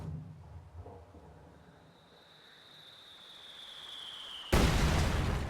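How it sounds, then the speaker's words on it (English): In a video game, a heavy mortar shell whistles in with a thin tone that swells over a few seconds, then a single loud, broad explosion bursts and rumbles on; low battlefield noise sits underneath. "Heavy mortar continues to bombard this area"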